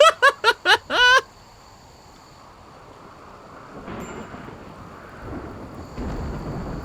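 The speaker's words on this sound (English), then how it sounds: "wow, nice timing on the rain." Thunder and rain in the colony game RimWorld: a few quick tonal chirps at the start, then a low rolling rumble of thunder swelling twice under a steady hiss of rain, distant and building.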